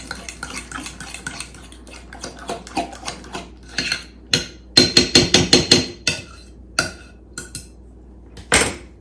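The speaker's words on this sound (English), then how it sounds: "And then we're just going to stir that in" Spoon stirring egg into a cheese filling in a bowl, with rapid clinking and scraping against the dish in quick bursts, close up and fairly loud.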